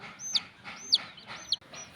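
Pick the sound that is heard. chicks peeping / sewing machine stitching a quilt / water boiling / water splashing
chicks peeping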